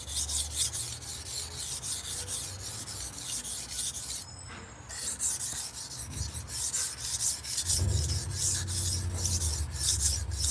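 A file rasps along a blade in continuous rhythmic strokes, close and fairly loud, with a short break around the middle and a low rumble building underneath in the later seconds.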